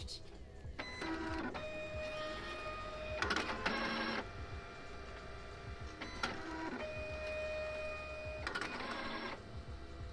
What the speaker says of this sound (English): The PC is talking to the printer now. It's gonna take a card from the right side and it's gonna bring it out on the left.